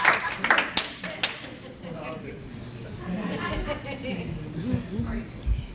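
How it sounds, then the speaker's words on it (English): Audience at a school district board meeting giving a brief round of hand claps, quick and fairly close, followed by murmuring and people talking. "I didn't get a hand clap."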